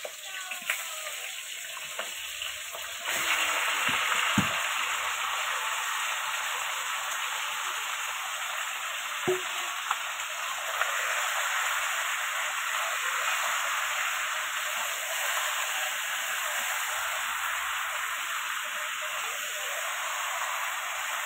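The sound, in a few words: desi chicken frying in hot oil in a wok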